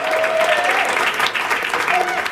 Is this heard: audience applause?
yes